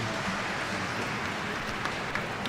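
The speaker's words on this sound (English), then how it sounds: "All those from Bengal, clap for her." An audience in a hall at a school quiz event claps, a steady wash of applause from many hands throughout, fairly loud and even.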